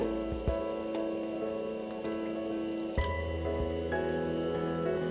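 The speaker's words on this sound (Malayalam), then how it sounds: "ഇതിലേക്ക് കുറച്ച് വെള്ളം കൂടി ചേർക്കുകയാണ്." Water poured into a cooking pot while making rasam, a steady close-up gush and splash with dense liquid noise throughout, a few small clinks and knocks of the vessel along the way.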